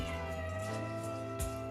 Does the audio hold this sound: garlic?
no